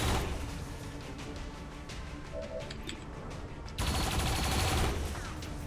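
Turrets trading gunfire in XCOM 2: dense, sustained bursts of rapid shots forming a continuous rattling barrage that grows louder near the end.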